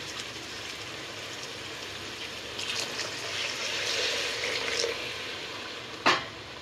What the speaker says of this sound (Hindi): बस अब इसके अंदर मैं एक गिलास भर के पानी डाल रही हूँ।